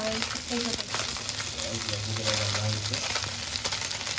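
Fish fries in a pan, a continuous hissing sizzle held close throughout the short stretch, with some faint background sounds under it.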